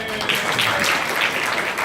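A brief burst of crowd applause at a conference speech, dense clapping at moderate volume with a murmur of voices underneath.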